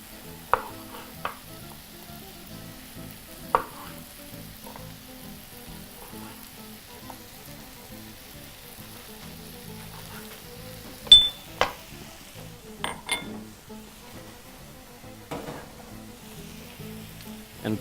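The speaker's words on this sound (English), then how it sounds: "Continuously tossing your mixture does help for a nice even cooking." Cherry tomatoes and masala for Indian-style macaroni cheese sizzle softly as they are tossed in a frying pan, with a steady low hiss broken by a few sharp clinks of utensil on pan.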